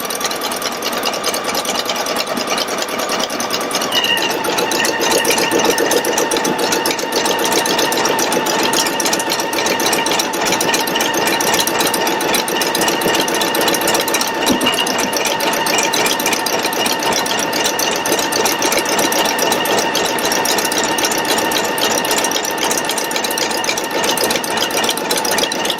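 A Pfaff Creative Icon 2 embroidery machine sews a tack-down stitch across the back of an in-the-hoop bag, a steady fast whirring hum with rapid needle clatter that runs on without pause for the whole stretch, close and loud.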